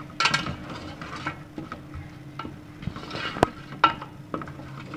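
Spiced yogurt and chicken mixture being stirred in a pot for chicken malai handi, with soft scraping, clinks of a utensil against the pot and a few sharper taps, close and fairly quiet with no talking.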